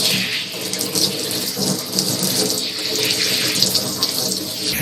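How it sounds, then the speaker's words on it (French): Steady gushing of tap water during a hair rinse, loud and continuous without pause, a broad hiss filling the whole stretch with no talk. "c'est déjà le moment de rincer."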